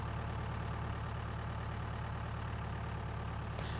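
A tractor engine in Farming Simulator 19 drones at a steady, even pitch throughout, with a continuous low rumble that neither revs up nor fades.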